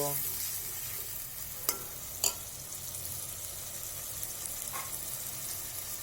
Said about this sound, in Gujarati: ચાલો તો હવે તેને સરસ રીતે મિક્સ કરી લઈએ મિત્રો